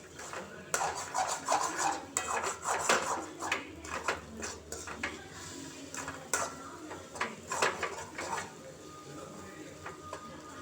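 Metal spatulas stir, scrape and clank egg and parotta on a hot griddle for muttai parotta, a busy run of sharp, irregular metallic scrapes and taps close by over low background noise.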